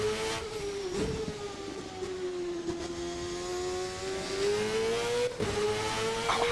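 Formula car engine in the VRC racing sim at Laguna Seca, a 1999 Formula NA-style machine redlining near 15,000 RPM, screaming at high revs with a steady pitch that dips slightly and rises again, loud and continuous with brief gear-shift blips.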